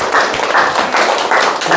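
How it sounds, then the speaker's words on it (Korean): An audience at a lecture hall talk claps together in a loud, fast, rhythmic pattern of closely spaced bursts for about two seconds, with no talking over it. "다시 박수 칩시다."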